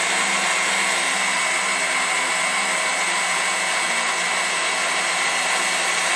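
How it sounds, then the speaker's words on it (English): An electric stand mixer beats lemon curd bar mixture with a loud, steady whirring drone that runs unbroken throughout, with no talk. "Just don't stare into the mixer."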